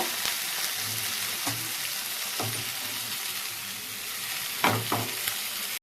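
Chicken pieces frying in a pan for tandoori chicken, a dense continuous sizzle with periodic scraping stirs and knocks, close and loud, without speech.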